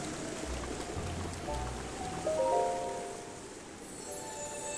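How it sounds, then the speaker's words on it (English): Steady rain patters in Zelda: Breath of the Wild, a soft continuous hiss from start to end. A few brief game chimes and tones rise over it partway through, and no voices are heard. "I don't think it's gonna stop raining."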